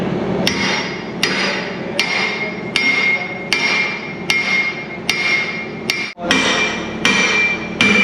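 Repeated hammer blows on metal while installing a Werk-Brau progressive link thumb on a Hyundai excavator, about one strike per second, sharp ringing hits in a steady rhythm with a brief pause near the end.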